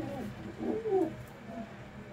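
A single soft, rolling coo from a fancier's pigeon in Punjab rises and falls near the middle, over a quiet background hum.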